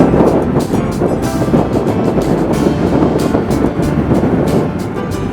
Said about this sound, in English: Very open here for the wind to get up, isn't it?